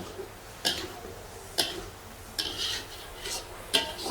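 A spoon stirs and sautés spiced food in a pan in a small hotel kitchen, making sharp metallic scrapes and clicks roughly every second over a faint sizzle, with no talking.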